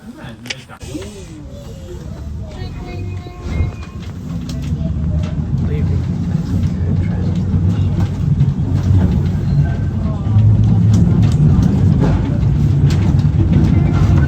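A vintage original Melbourne tram runs along the Bendigo tramway line, its low rumble and rail clatter building steadily and growing louder toward the end.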